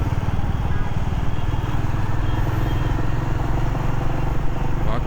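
A Royal Enfield motorcycle being ridden on a potholed road gives a loud, steady thumping engine drone close by, a continuous rhythmic putter throughout with no pauses.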